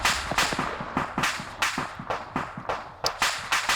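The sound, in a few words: ammunition cooking off in a tank, from a video game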